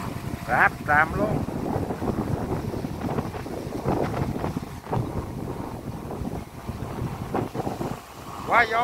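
Strong, steady wind buffets the microphone outdoors during kite flying, a continuous loud roar throughout with Vietnamese voices talking over it.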